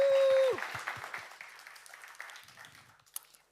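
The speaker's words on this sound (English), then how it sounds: "give a round of applause for Akanksha." Applause from a conference audience at a Flutter developer event on a main stage, a burst of clapping that starts fairly loud and thins out over a few seconds, with some room noise and faint voices near the end.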